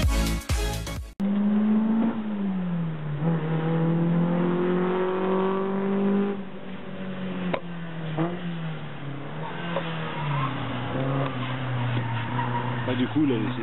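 A Renault Dauphine-based Quéron prototype race car with a 165 hp 1600 engine runs on a circuit, its steady loud drone rising and falling through gear changes and revs, with brief speech at the start.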